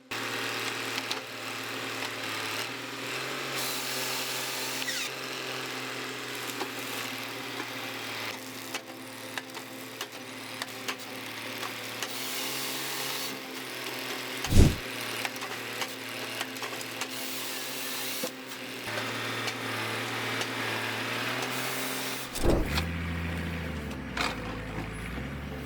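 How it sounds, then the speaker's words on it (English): A tractor or loader engine runs steadily while a Naarva S23C stroke harvester mounted on the loading grapple fells and cuts timber, a continuous mid-pitched engine drone with a few sharp knocks and cracks cutting through. "Naarva S23C stroke harvester with saw is mounted to the place of a loading grapple"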